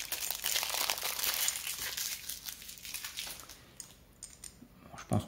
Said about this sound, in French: hop, je déchire